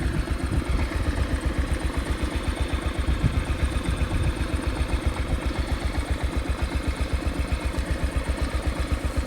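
The engine of an open-station tractor from the 1970s runs steadily after road clearing, with a close, loud, rhythmic chugging beat and no talking.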